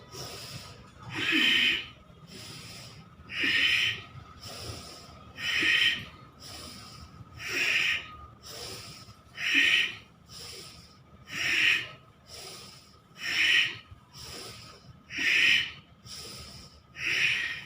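A person doing a breathing exercise breathes in and out forcefully through the nose, about nine strong, evenly spaced breaths roughly two seconds apart, close and clear over quiet background.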